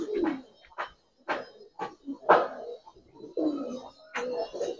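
Giribaz pigeons cooing in a series of soft, throaty calls with short gaps, close by, no speech.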